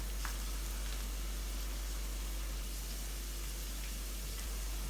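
Chopped onion and gram flour (besan) roasting together in a pan, a soft steady sizzle with faint scattered ticks, quiet and even with no talking.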